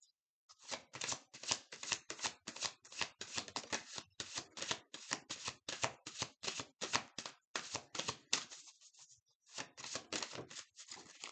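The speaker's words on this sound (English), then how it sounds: "Today I want to pre-shuffle everything so that it's organized." Cat-themed oracle cards riffle-shuffled in a steady run of rapid, crisp slaps and flutters, close and alone, with a short pause before the shuffling picks up again.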